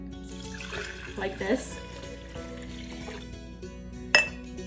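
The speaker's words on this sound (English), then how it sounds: "Then you're gonna add your water in" Water is poured into a glass mason jar holding sprouting seeds, a gentle trickle under a person speaking, ending in a sharp glassy clink near the end.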